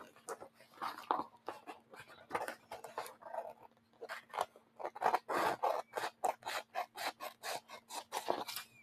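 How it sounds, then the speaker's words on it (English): Scissors trim paper for a vintage Easter junk journal, giving close, crisp snips in quick irregular bursts that speed into a steady run of cuts near the end, with no voices. "I'm going to try to trim it with my scissors as close as I can."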